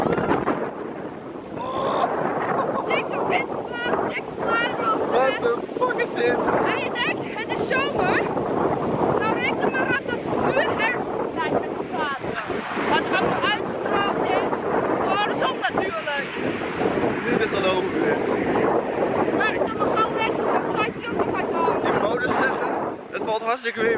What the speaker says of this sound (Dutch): Dikke windvlaag, dikke vlaag!